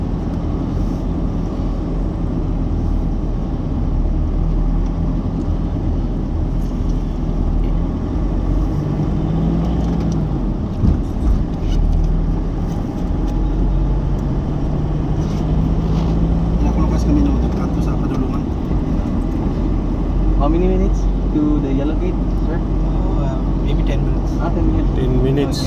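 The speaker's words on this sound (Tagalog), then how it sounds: "diri sa dalan sa Mumbai kag traffic man gali" Busy street traffic in Mumbai, India: a continuous loud rumble of engines and passing vehicles, with a voice talking over the din.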